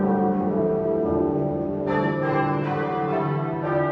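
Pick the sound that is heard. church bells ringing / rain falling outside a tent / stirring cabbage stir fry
church bells ringing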